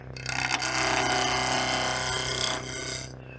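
A gouge cutting spinning wood on a lathe while turning a box, a loud continuous rasping shear that starts abruptly, holds for about two seconds and eases off, no talk.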